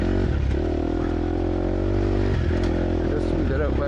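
A 4-stroke dirt bike engine drones loud and close on a trail, holding a steady throttle with brief dips and surges, and a voice can be heard over the engine noise.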